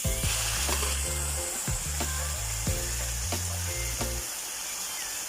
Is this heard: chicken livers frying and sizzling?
yes